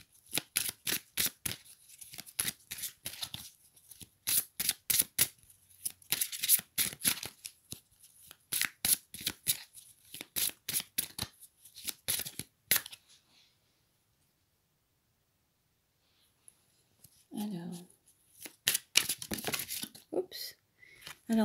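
Tarot cards are shuffled in rapid bursts of crisp riffling and flicking, with a quiet pause midway before a brief voice and more card handling resume.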